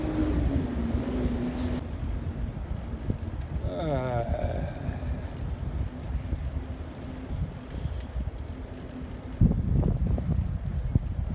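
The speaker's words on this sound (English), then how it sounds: "And I got a little bit of a headwind." Headwind buffeting a microphone while cycling through Central Park in cold weather, a loud continuous low rumble of wind noise that swells near the end.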